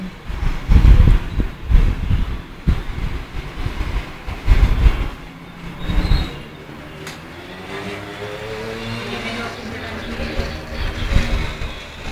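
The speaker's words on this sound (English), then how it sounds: "there comes the train" A train approaches and passes near a watcher, heavy rumbling and rhythmic clacking building and swelling, with a bright squeal midway, mixed with background voices and handling noise early on.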